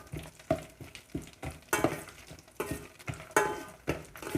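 Whole spices including shahi jeera and six small bay leaves fry in a pan for chicken biryani, with a close, lively sizzle broken by repeated rhythmic stirring scrapes and light clinks of a utensil against the pan.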